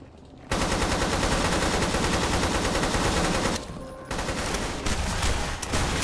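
AK rifle fire in the first-person shooter Hunt Down the Freeman, a loud, sustained automatic burst after a quiet start, with a brief dip in the middle before firing resumes.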